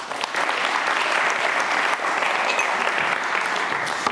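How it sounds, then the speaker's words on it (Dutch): A warm round of applause from an audience welcoming a guest at a talk event, dense continuous clapping that stays steady and loud throughout. "En graag een warm applaus voor Gerben van Etten."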